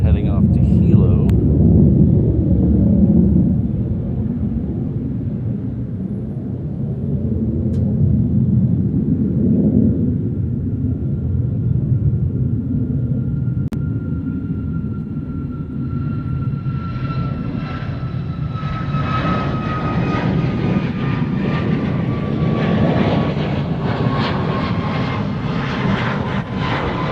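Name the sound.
Southwest airliner taking off from Honolulu airport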